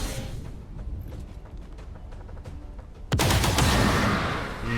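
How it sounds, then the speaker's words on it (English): Rapid-fire gunshots in XCOM 2 erupt suddenly after a stretch of low background ambience, forming a loud, sustained burst that carries through to the end. "So let's rapid fire again."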